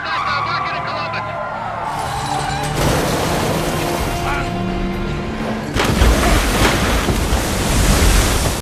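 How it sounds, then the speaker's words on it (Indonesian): In an action film scene, a car plunges into the sea. A loud, dense roar of surging waves and splashing water builds and swells, mixed with honking tones from the soundtrack. "Bob harus menceburkan mobil itu ke laut."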